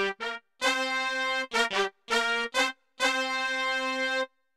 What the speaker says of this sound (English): It's preset 939, brass and sax.